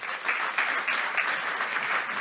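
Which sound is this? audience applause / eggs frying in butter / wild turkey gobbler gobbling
audience applause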